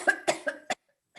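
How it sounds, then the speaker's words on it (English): A person coughs four times in quick succession, loud and close, followed by a brief faint throat sound after a pause. "Excuse me, I'm going to cough."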